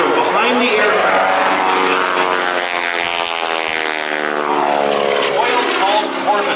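A Boeing Stearman PT-17 Kaydet biplane flies a hammerhead turn at an air show. Its loud propeller engine drones and its pitch sweeps down and back up as the plane passes close overhead.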